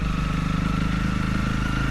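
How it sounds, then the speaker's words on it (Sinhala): A Honda CRF Rally motorcycle rides along a village road through tea estates with the rider standing on the pegs. Its engine note holds a steady, close, throbbing hum throughout. "මම මේ බයික් එකේ හිටගෙන යන්නේ."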